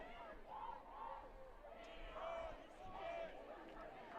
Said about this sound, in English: You can kind of hear them, the student section getting into it.